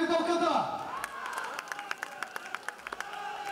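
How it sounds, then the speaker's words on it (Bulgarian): Spectators at a women's boxing bout in Veliko Tarnovo clap for the two fighters: sparse, uneven claps ring out for a few seconds after an announcer's voice fades. "Аплодисменти за двете боксьорки."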